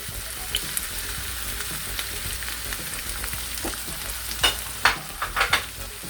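Chicken, pork and freshly added leeks stir-fry in a hot pan, a continuous crackling sizzle broken by a few sharper scraping and tossing clicks toward the end.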